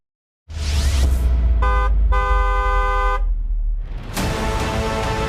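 A car horn honks in a few short bursts over a low rumble of engine and traffic, loud and close, with a brief pause between blasts.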